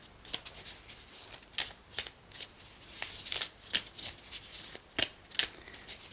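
A deck of tarot cards is shuffled by hand in a run of quick riffling and flicking bursts, close and crisp, with brief pauses between shuffles.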